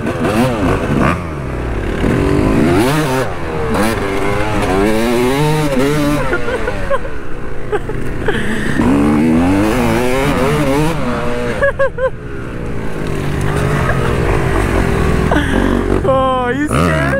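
Dirt bike engine revving hard while riding alongside quads, loud and continuous with repeated rising and falling throttle sweeps, rough clattering underneath and brief dips in between.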